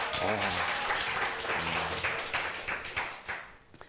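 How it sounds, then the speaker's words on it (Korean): A church congregation claps for children during a Bible reading service, a short burst of indoor applause with the pastor's voice talking over it at the start before the clapping fades. "다시 한번 박수할까요?"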